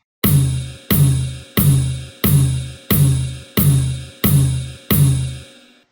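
A thin-sounding drum beat with every drum striking the same rhythm together, eight loud, evenly spaced hits with short decays, no other sound around them.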